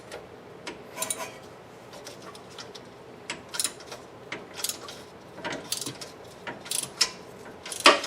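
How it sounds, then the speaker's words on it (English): A ratchet wrench on Torx 40 bolts holding a Ford Mustang's rear bump stop makes bursts of quick, crisp clicks close up, with short pauses between strokes and no talking. "I just want to break them loose with a wrench here"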